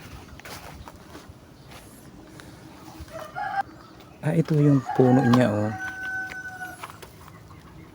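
A rooster crows loudly at close range with clucking hens around it, while someone speaks briefly over outdoor background noise.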